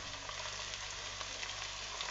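Ginger, garlic and cumin paste frying in a pan, a faint, steady sizzling hiss that runs unbroken through the short stretch, with no voices.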